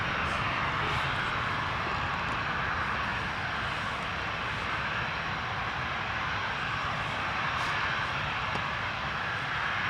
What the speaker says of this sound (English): Wow, that A380.